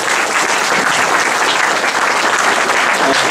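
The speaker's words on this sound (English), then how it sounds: "we'll give a hand of applause to the panel" A Mobile Monday Silicon Valley audience gives a panel a loud, dense round of applause. The clapping stays at an even level from start to finish and is close and full-bodied.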